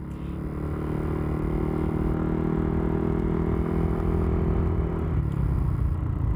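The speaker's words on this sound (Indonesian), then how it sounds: "kayak knalpot standar, cuman ada bassnya gitu aja bedanya" A Yamaha Aerox scooter with an aftermarket exhaust idles with a deep, bassy exhaust rumble, steady and close, with no talking.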